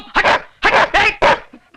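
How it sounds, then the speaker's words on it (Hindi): A dog barks four times in close, loud bursts, each bark short and yelping, alone with no talking, in a Hindi film comedy scene. "कुत्ते"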